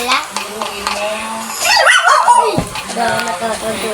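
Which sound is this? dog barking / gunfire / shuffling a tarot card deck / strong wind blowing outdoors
dog barking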